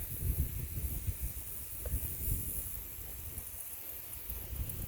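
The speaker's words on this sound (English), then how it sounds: "beautiful prairie with the prairie grasses blowing in the wind" Wind blows steadily across open prairie grassland at the Clear Creek Natural Heritage Center, a continuous airy hiss with rumbling gusts buffeting the microphone close up, and no voices.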